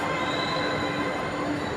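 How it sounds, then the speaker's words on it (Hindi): A train moving through a Delhi Metro station, giving a continuous steady rumble with a faint high whine, sustained and fairly close throughout. "दिल्ली मेट्रो स्टेशन कितना सुंदर स्टेशन"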